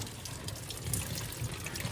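Rainwater streams and splashes steadily inside a Mahindra Scorpio N through a leaking sunroof, a close, continuous trickling and pouring rush with no speech over it.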